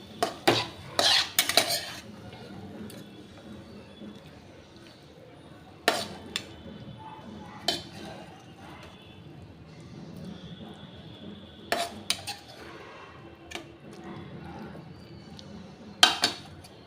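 A spoon scrapes and clinks against a pot and bowl while cooked banana flower ghonto is served, with scattered sharp metallic taps between long quiet stretches.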